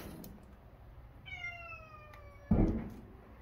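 A single drawn-out cat meow, fairly close, followed by a short thump; otherwise quiet.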